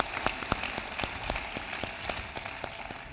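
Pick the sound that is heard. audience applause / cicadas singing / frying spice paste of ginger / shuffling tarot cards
audience applause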